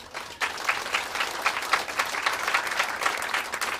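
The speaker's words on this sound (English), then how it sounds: "a round of applause for Marie Bain" An audience at a freethought day event breaks into applause for the emcee, starting abruptly and holding as a full, even wash of clapping from a sizable crowd.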